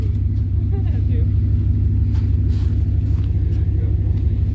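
A Dodge Dakota 5.9 R/T truck engine, once abandoned, runs at a steady idle with a deep, even rumble close by, and faint voices can be heard in the background.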